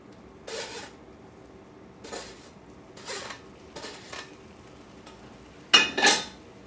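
Noodles are tossed with basil pesto in a pan, heard as a few brief scraping and clinking utensil strokes against the pan, spaced out with quiet gaps and a louder final scrape near the end.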